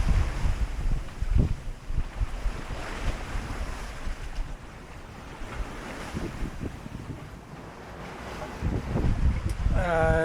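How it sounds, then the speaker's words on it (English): Wind buffets the microphone and ocean waves wash and slosh around a sailboat crossing the Pacific at sea in early-morning darkness, a steady rough roar with gusty swells and no clear talk. "Finally have some wind going a little bit in my direction."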